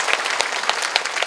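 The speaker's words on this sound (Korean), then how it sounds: "서로 축하와 격려의 박수 한번 보내주십시오" Audience applause at a Democratic Party political lecture in Jungnang, Seoul: loud, close, dense clapping from a packed room, sharp individual claps popping out of a continuous roar throughout, with no speech over it.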